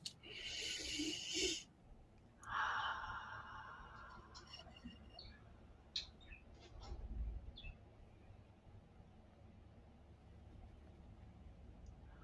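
Deep breaths taken during a calm guided meditation: two long, audible inhales and exhales near the microphone, followed by quieter breathing and faint background sounds.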